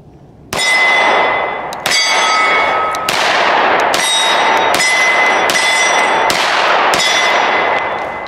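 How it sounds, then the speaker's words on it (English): A 10mm Tisas Night Stalker pistol fires at an outdoor range, six sharp, loud shots spaced about a second apart, each followed by a ringing metallic decay. "I don't know if you guys can tell the audible difference of grain in each of these bullets we're shooting."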